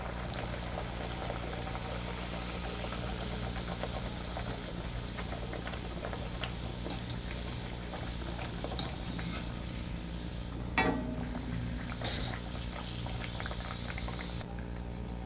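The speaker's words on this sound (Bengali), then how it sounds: "এভাবে আমি সবগুলো লুচিগুলো ভেজে নেবো" Lentil-stuffed luchi puris fry in hot oil with a continuous soft, bubbling sizzle, steady throughout, with occasional light clinks and stirring sounds.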